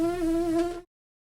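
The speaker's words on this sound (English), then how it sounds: "Soft, mosquito-like free buzzing with a downstream formation is an excellent strength-building exercise for all embouchure types." Soft, steady free buzz of a brass player's lips held in a downstream embouchure, a thin mosquito-like drone about a second long with a strong even pitch, heard close and alone before it cuts off.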